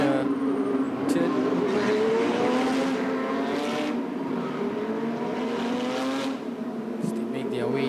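Porsche race cars of a sprint challenge at Sepang International Circuit rolling toward the starting line, a steady droning engine tone with rising and falling pitch that continues throughout, mixed with a commentator talking.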